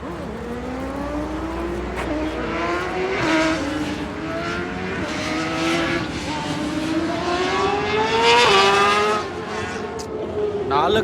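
A BMW car engine revs and pulls away, its rising and falling whine stepping up through several gears over about eleven seconds, loud and close with continuous road noise beneath.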